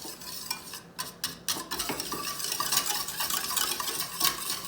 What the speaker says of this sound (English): So I'm going to take this off and stir this in.